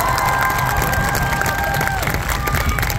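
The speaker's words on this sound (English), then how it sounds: "let's give a round of applause for our visiting bands" An audience at the Hempfield band festival applauds and cheers the visiting bands, with dense, steady clapping and shouts filling the whole moment.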